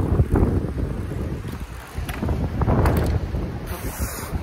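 Strong gusting wind buffets the microphone during a bicycle trip toward the North Cape, with a loud, rumbling roar that rises and falls, sustained throughout without pause.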